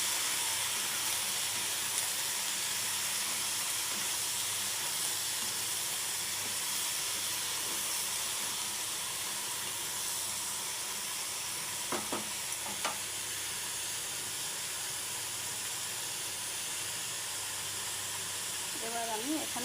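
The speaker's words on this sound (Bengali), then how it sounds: "এবার আমি দিয়ে দিলাম ঝিঙেগুলো। এবার আমি ঝিঙেটাও এবারে নাড়াচাড়া করে নিচ্ছি।" Ridge gourd and potato chunks frying in a pan with a steady sizzle and hiss, with a few scraping stirs toward the end.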